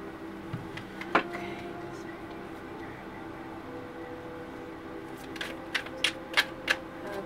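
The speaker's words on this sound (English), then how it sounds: "Let's pull your cards. I actually need to shuffle them." Tarot cards being shuffled by hand, a few crisp riffling snaps and taps near the mic, one early and a cluster toward the end, over a quiet steady room hum.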